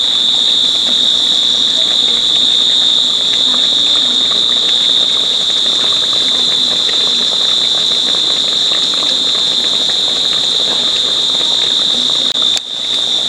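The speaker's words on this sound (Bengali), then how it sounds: "ব্রাউন কালার করে আমি একটু ভেজে নেব।" Semolina chhana jilapi fry in hot oil, making a loud, continuous, even sizzling hiss with a thin steady whine above it, lasting throughout with only a brief dip near the end.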